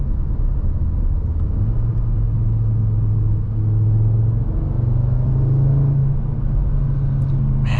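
Turbocharged engine of a 2024 Audi RS 3 pulling under acceleration on a winding road, a steady low drone with rising tonal notes as revs climb, heard from inside the car with no talking.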